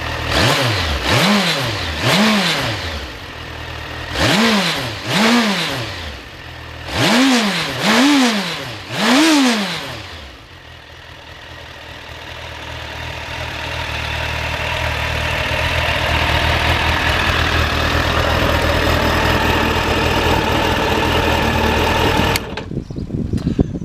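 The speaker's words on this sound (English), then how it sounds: "Give that throttle a blip for you, so you can hear what the standard exhaust sounds like." A 2005 Suzuki GSF 1200 Bandit with its standard exhaust gives several sharp throttle blips that rise and fall in quick pairs over its idle, then the engine settles into a steady, slowly building drone.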